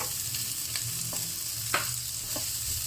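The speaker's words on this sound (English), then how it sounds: "So stir fry the chopped onions as well." Chopped onions stir-frying with garlic in a pan make a quiet, steady sizzle, with a few light scrapes of a utensil against the pan.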